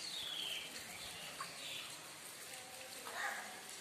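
Rain falls steadily through a windy first winter downpour, a soft continuous hiss with a few faint bird calls in the background.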